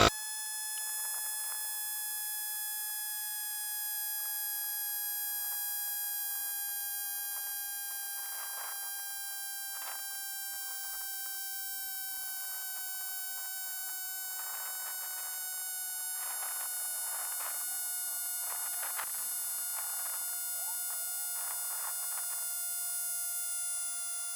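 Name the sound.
Portronics Vayu portable tyre inflator pumping air into a tyre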